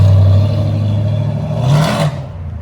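A Dodge Coronet with a swapped Gen 3 Hemi and 2.5-inch single-chamber Flowmaster mufflers sends out a loud, deep exhaust drone up close, which swells briefly as the engine revs and then fades.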